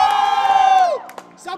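Loud crowd of go-karting race team members shouting and whooping together at a race day at RPM Bhopal, a sustained chorus of voices that trails off, followed by a few scattered shouts.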